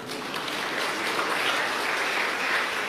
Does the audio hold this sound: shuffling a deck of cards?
no